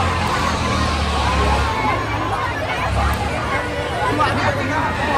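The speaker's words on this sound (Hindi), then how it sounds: "आप लोग घूम देख सकते हो कितनी ज़्यादा भीड़ है" A dense, loud crowd murmurs and chatters without pause at a big Durga Puja fair in Delhi, with many overlapping voices and a low background rumble.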